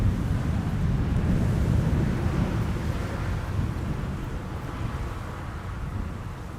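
Strong wind roars steadily at Amsterdam Schiphol Airport near runway 18R, a dense low rumble buffeting the microphone and fading slightly toward the end, with no voices.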